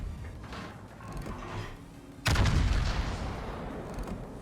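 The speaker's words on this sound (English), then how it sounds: "we're gonna wear him down with the HE right now." The British battleship Conqueror fires a salvo of high-explosive shells in World of Warships: one sudden, heavy boom midway through, then a long rumbling decay over quieter ambient noise.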